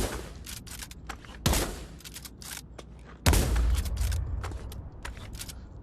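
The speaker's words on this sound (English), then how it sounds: "bolt action rifle, aim, fire, grab trigger, lift up, cock back, put back in" Two loud, close bolt-action rifle shots ring out in Pavlov VR, spaced a couple of seconds apart, each with a booming tail, amid clicks and clatter from working the bolt.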